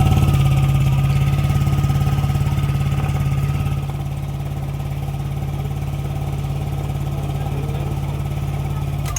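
A Yamaha NMAX V2 scooter engine idles close by, its idle staying high and not dropping, a steady rhythmic putter that eases slightly lower partway through and carries on evenly.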